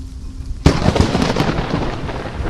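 Lightning strikes near a weather reporter outdoors: a sudden sharp crack is followed by loud, rolling, crackling thunder that fills the rest of the moment.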